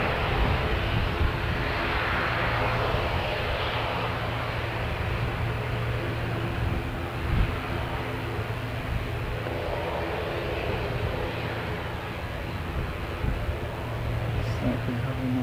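An Air New Zealand jet, flight NZ651 from Christchurch to Queenstown, pushes back with a steady distant engine hum and hiss, fairly faint and even, with light talk now and then.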